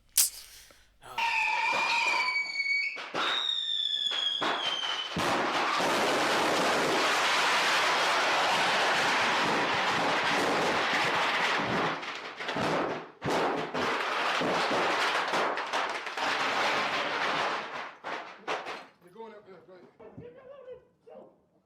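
Rapid crackling bursts and loud booms go off continuously for most of the stretch, with people laughing and talking over the noise before it tapers off.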